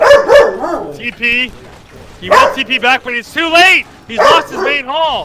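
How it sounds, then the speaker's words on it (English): A dog barks repeatedly in short bursts close by while someone commentates excitedly over it. "Sorry for the barking, guys."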